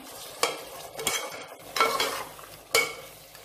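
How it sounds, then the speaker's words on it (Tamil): Chicken biryani being stirred in a pot, a spoon scraping and turning the oily mixture in four distinct strokes over a soft sizzle, close and moderately loud with no voices. "ஒரு கிளறி விடலாம்."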